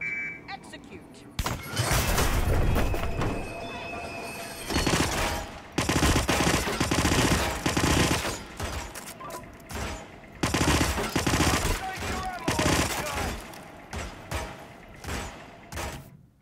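Gunfire in Hitman 2016, with repeated bursts of automatic shots and sharp cracks that come and go over a long stretch, loud and close, while someone speaks over parts of it.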